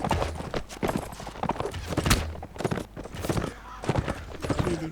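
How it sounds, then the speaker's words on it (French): Hooves of mounted raiders' horses clatter in a Mount and Blade battle, a dense, continuous clip-clop of many galloping riders with loud, irregular impacts throughout. "les pillards sont à cheval"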